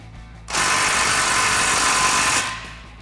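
A 17 mm socket and ratchet tighten an exhaust bolt on an F-150 Borla dual exhaust, a loud continuous whirring buzz lasting about two seconds, like a powered ratchet running up close.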